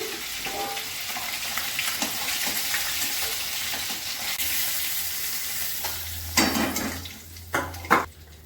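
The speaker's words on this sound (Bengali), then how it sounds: "এই মাছগুলো ভাজা হয়ে গেছে, তুলে দিচ্ছি।" Rohu-type fish frying in hot oil in a home kitchen, a steady broad sizzle running throughout, with a few louder clatters of utensils lifting the pieces out near the end.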